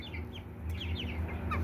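A flock of about nineteen backyard hens, including lavender and chocolate Orpingtons, barred rocks and silver laced Wyandottes, clucks softly and steadily, with low murmuring calls rising and falling in the background and no talk.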